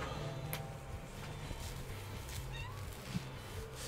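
A pet cat meows a few times, quiet and close, over a faint background hum, and a voice answers it with imitation meows.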